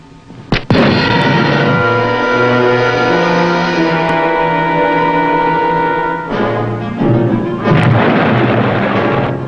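A submarine torpedo fires with a sharp burst, then a loud, steady mechanical whine and rumble runs on and swells again near the end.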